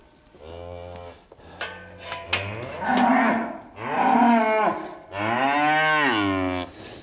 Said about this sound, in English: So although 160 Mary is a lovely quiet cow